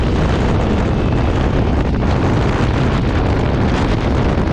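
Barton Blade R 125 motorcycle running at speed, a loud, steady roar of engine and rushing wind buffeting the microphone throughout, with no pauses.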